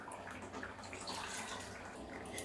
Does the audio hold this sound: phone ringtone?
no